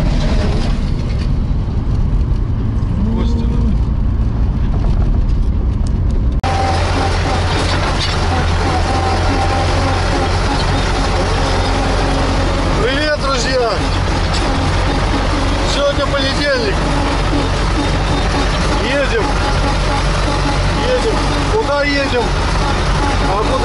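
An empty truck pulling a hay platform drives along a road, with a steady low engine drone and road rumble that grows louder after the first few seconds, plus some rattling. The sound is close and continuous.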